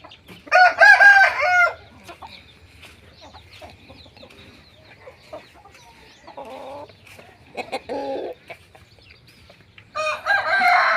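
Gamecock roosters crow loudly in bursts, one at the start and another at the end, with scattered clucking and quieter calls in between.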